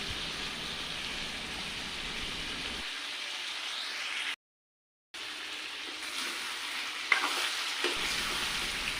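Duck meat fries in a pan with meat masala and chilli powder, a close, even sizzling hiss that drops out briefly partway through, then resumes with a few stirring clatters.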